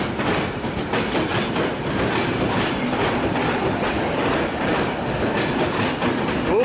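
Train rolling through Budapest Keleti station, a Vectron locomotive hauled by a shunter, with steady rumble and clickety-clack of wheels over rail joints, loud and continuous throughout.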